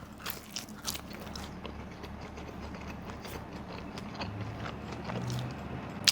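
Chicago tavern-style pizza with a crisp cornmeal crust being bitten and chewed, a close run of crunchy, crackly chewing sounds, fairly quiet, with no talking.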